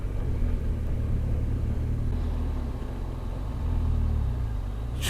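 A car rolls over loose gravel on a hill road along Scotland's North Coast 500 between Applecross and Inverness, heard as a steady, close, loud rumble from inside the vehicle with no talking.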